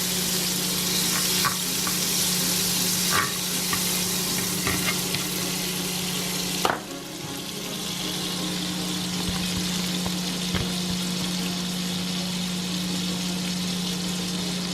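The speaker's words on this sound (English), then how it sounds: "in this pot I'm going to go ahead and put a little butter in here. Just let this melt." Butter melting and sizzling in a pot over a gas flame, a steady close frying hiss with a low burner hum beneath, a brief clunk midway, no talking.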